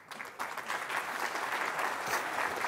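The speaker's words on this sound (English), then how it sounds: "Oh, you're clapping now." An audience at an education conference claps steadily for a few seconds, a dense, moderately faint wash of applause with no voices over it.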